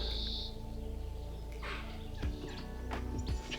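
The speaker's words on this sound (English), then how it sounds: "jackdaws, greenfinch," Jackdaws and a greenfinch call around a garden with apple trees, giving brief sharp chirps and calls over a constant low hum.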